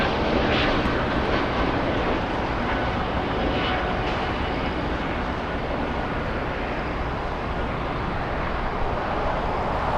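A Fiji Airways Airbus A350 arriving at LAX, heard as a steady broad jet engine roar at moderate distance, continuous for the whole stretch with no talk.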